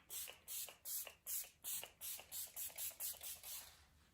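Tarte face mist sprayed in a quick series of about eleven short, hissing bursts, close and fairly loud, evenly spaced with brief gaps between each puff.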